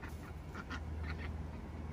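Ducks quacking, a few short nasal calls in quick succession, faint over a low background rumble.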